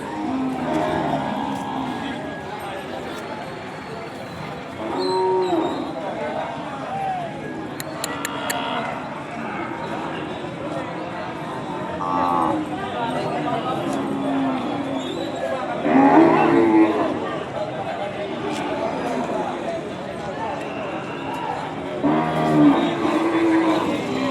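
Ongole calves and cattle moo repeatedly amid a busy outdoor crowd at a Sunday cattle market in Kodad, with people talking throughout and occasional hoof clatter.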